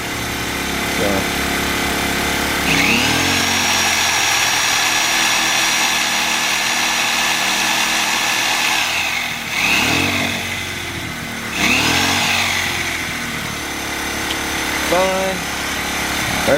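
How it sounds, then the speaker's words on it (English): Reciprocating saw running on power from a Ryobi RYi1000 1000-watt inverter generator, a steady loud buzzing drone with the generator humming beneath, the load shifting in bursts toward the end, with someone talking over it. "Next we've got our recip saw."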